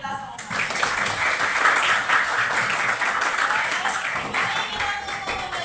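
A classroom of students claps together in brisk, continuous applause at the close of a lesson, fairly close and loud, sustained for several seconds without pause.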